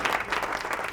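A studio audience on a Ramadan quiz show claps after a correct answer, a brief, even burst of applause heard alone.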